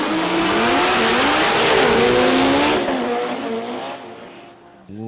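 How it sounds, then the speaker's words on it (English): Two modified sports compact drag cars, a Ute and a Corolla, run a 10.5-class qualifying pass in Brisbane; a loud, close engine roar with tyre noise holds, then fades away as both lift off the throttle early. "it sounds like both cars are off the throttle early here"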